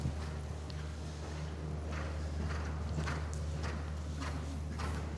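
Horse hooves clip-clop steadily on an arena surface during a riding lesson, an even rhythmic gait heard up close over a low constant hum.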